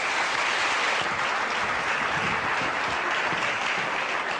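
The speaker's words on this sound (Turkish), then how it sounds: "Bir alkış rica ediyorum" A TV studio audience on a Turkish talk show gives loud, dense, continuous applause. It holds at a steady level without letup, and no talking is heard.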